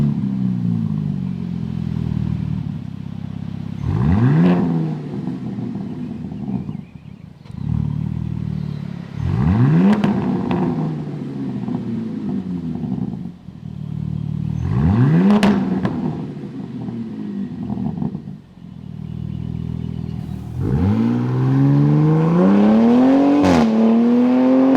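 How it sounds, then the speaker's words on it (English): Truck with MagnaFlow valve-delete mid-pipes and extreme delete exhaust, cold-starting: four loud rising rev blips spaced about five seconds apart over a steady, raspy, rumbling idle, close and alone with no talk. "this next thing is going to be a cold start for the most aggressive version."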